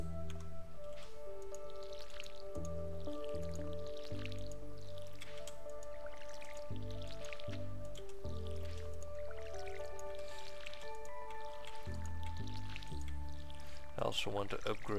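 Watering crops with a watering can in Stardew Valley gives repeated game splash and drip effects mixed with soft background music. A voice talks faintly over it.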